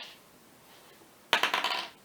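Three dice rolled for the Resident Evil 2 board game land on a tabletop, a brief burst of hard clattering rattles and bounces that starts abruptly and fades over half a second after a quiet pause.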